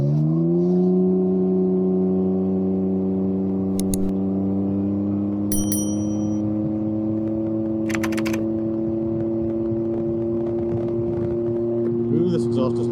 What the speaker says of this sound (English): this exhaust is noisy